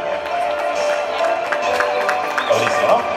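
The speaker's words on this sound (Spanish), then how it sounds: "Fuerte aplausos para Fabián." Crowd applause and cheering at a primary school graduation party in Arequipa, steady clapping throughout with voices mixed in.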